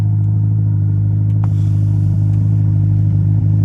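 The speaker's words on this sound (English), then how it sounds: "That's your lovely cold start." A 2022 Ferrari Roma idles just after a cold start, its engine giving a loud, deep, steady rumble heard up close throughout, with a slight rise in pitch near the end.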